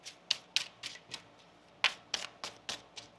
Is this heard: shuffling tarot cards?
yes